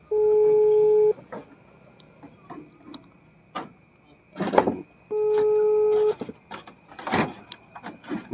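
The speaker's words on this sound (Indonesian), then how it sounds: "Ini lagi telepon Pak Cemplon." A telephone call rings out unanswered, with two long steady tone bursts about a second each separated by a pause, mixed with faint room noises and brief background voices.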